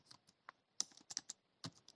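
Quiet typing on a computer keyboard, a loose run of about a dozen light clicks in irregular bursts, close and alone with no talk.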